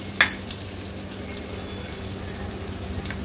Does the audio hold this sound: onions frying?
yes